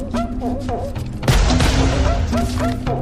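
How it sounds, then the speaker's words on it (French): Gunfire in a film shootout scene from a low-budget 2010 post-apocalyptic action movie, with a sudden burst of loud, dense shots and crashes mixed under a music score and voices. "apparaît pour la première fois Lucifer, à l'origine d'une fusillade des plus grotesques"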